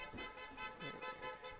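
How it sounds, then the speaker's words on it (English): Car horns honk repeatedly outdoors after a high school football playoff semifinal win, with overlapping toots pulsing steadily at moderate distance and blending with traffic. "The horns are a-honking."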